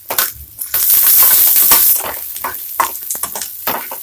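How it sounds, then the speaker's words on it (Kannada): Garlic, cinnamon, cloves and pepper frying in a pan for boti gojju, with close, crackling sizzles and scraping stirs, loudest in a steady burst through the middle before easing to softer sputtering. "ಈಗ ಬೆಳ್ಳುಳ್ಳಿ, ಚಕ್ಕೆ, ಲವಂಗ ಮತ್ತು ಮೆಣಸು ಹಾಕ್ಕೊಳ್ಳಿ."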